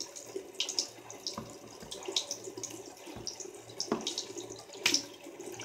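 Water runs from a tap during a morning face rinse, a steady soft splashing close by with irregular splashes, quiet and with no talking.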